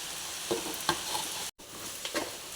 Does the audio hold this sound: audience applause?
no